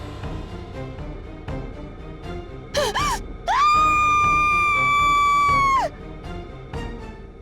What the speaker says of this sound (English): The scream echoes through the night.